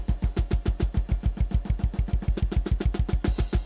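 A steady, fast drum beat with punchy kicks and snappy hits in a dry, tight mix, repeating evenly with no talking.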